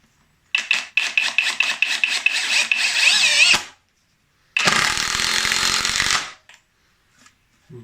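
A Teccpo 18V brushless impact driver fastening a bolt: rapid rattling hammer pulses for about three seconds, then after a pause a second sustained loud, buzzing impact burst, close and alone.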